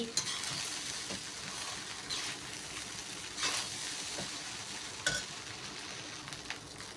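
Chicken rice is stir-fried in a pan, with a low, constant sizzle and occasional spatula scrapes and clinks, fairly quiet and without speech.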